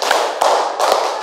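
Three sharp hand claps at an even, quick rhythm, each one close, loud and crisp, with no voices in between.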